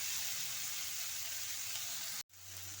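Tomato masala for Kerala-style egg roast sizzling softly in a pan, a faint, even hiss broken by a brief gap, then resuming with a low steady undertone as it is stirred.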